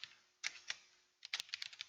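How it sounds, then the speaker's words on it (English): Keys tapped on a computer keyboard while chatting with an AI companion mod, a few quiet separate clicks followed by a quicker short burst of typing, close up and faint with no voices. "Now we're gonna type in something here."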